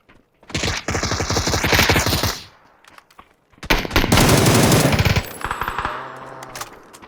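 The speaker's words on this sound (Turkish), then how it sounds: "Bak dışarıdan uzaktan bir yerden sıkıyor." Automatic weapon fire in the PUBG battle game, with two long rapid bursts of gunshots separated by a short pause, loud and close-sounding, followed by a fading ringing tail.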